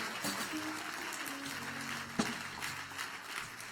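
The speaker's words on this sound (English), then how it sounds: "Come on, clap your hands and give God some praise." A church congregation at a live deliverance and healing service claps in praise, a dense continuous patter of many hands heard at a middle distance, with some voices mixed in.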